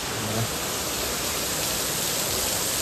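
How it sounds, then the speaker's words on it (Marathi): Heavy rain pouring down during a Dahi Handi celebration, a loud, dense, unbroken roar of rainfall throughout, no talking. "फुल पाऊस."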